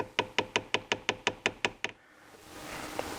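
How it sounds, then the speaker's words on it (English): Screwdriver tapping gently on a crushed sump plug washer during an oil change: nine even, sharp metallic taps in quick succession, close and clear, then a soft rustle. "gentle tap, just to try and ease it off with a screwdriver"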